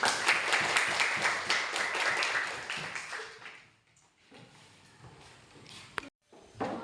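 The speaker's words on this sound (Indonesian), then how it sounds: "beri tepuk tangan buat kelompok melati" A classroom of schoolchildren applauds a student group after their presentation in a science lesson, with dense, close clapping for about four seconds that then thins out and fades to near silence, broken by a single sharp tap.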